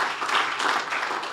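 Brief burst of audience applause at a health tech investor summit, a dense steady wash of many hands clapping at moderate level with no talk over it.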